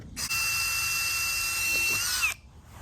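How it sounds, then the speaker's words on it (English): A power drill whines steadily at high pitch for about two seconds while drilling a hole in a whisky bottle, then stops abruptly, close and loud. "and drill your hole"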